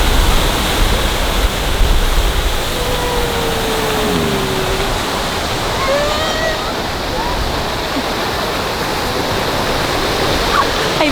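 Outdoor fountains between the Washington Monument and the Lincoln Memorial in Washington, DC splash in a loud, steady rush of water that never lets up, with a few faint high chirps or squeaks faintly above it.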